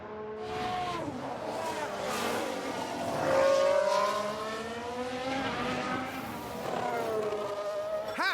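Formula 1 race cars in F1 Manager 2022 at the Brazil race, engines whining and revving as they pass at varying distances, with rising and falling pitch and no clear speech.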